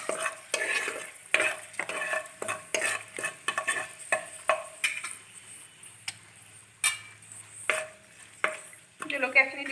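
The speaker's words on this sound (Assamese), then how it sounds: "অলপমান শুকান জলকীয়া মই এনেকৈ থৈ দিছিলোঁ সেইখিনিও তেলতে দি দিছোঁ" Dried red chilies frying in oil for mango pickle crackle under a series of rhythmic stirring and scraping strokes against the pan, close and distinct, with no voices.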